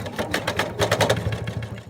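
A sewing machine runs steadily up close, stitching fabric ears onto a washcloth cat, with a continuous whirring mechanical hum and a rapid needle rhythm throughout.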